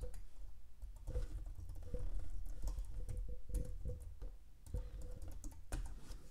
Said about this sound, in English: what I'm gonna do is I'm gonna type in my website